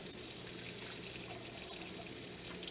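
Water runs steadily from a tap into a sink during product testing, a constant close hissing splash that holds at an even level throughout, with no voices.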